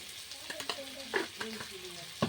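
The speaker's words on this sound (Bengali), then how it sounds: "আমি ভালো করে ভেজে নেব" Vegetables fry in a pan for a lata fish chorchori, a close, steady sizzle broken by several scraping stirs of the spatula.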